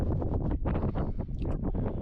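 Gusty wind buffets the microphone on a Lake District mountainside near Scafell and Scafell Pike, a loud, continuous low roar that surges and dips in waves throughout, with no voices.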